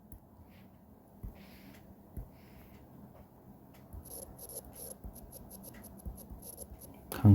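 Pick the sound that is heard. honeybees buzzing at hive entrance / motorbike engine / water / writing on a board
writing on a board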